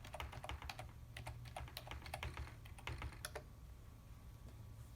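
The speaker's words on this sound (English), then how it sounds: "then I just type in my password" Quiet, rapid typing on a computer keyboard while a password is entered during a RetroPie setup, with irregular bursts of close key clicks, brief pauses and a low steady hum underneath, with no voices.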